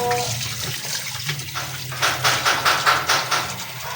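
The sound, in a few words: washing meat under running tap water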